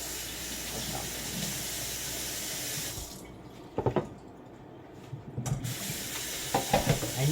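A kitchen tap runs over pineapple being rinsed with a steady hiss of water. It breaks off midway, leaving a few clunks and splashes, then the water rushes back on.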